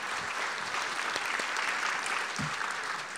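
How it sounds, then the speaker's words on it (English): Audience applause at the 2014 ThrillerFest awards banquet, a steady wash of many hands clapping that holds through the whole stretch without pause. "Please do clap."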